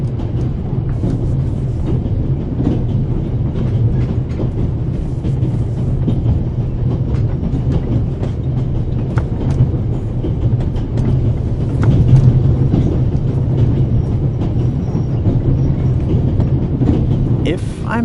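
Orient Express train from the video game The Raven, running from Paris to Istanbul: a loud, continuous rolling rumble with faint rhythmic clatter throughout.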